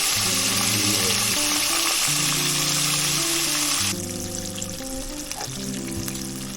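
Rabbit and squirrel pieces deep frying in hot oil, a dense continuous sizzle and bubbling that softens partway through, accompanied by faint clinks, close up with no talking.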